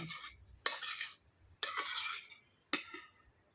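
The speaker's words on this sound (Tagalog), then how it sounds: "Haluin natin." A utensil stirs a mango and graham dessert in a dish, making four separate scraping, clinking strokes with short quiet pauses between them. No one talks.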